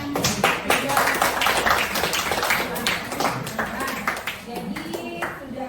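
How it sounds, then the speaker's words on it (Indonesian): Scattered applause for classmates during an online class, a thin patter of claps mixed with taps and small noises, heard under ongoing talk. "Silakan tepuk tangan pada temannya yang"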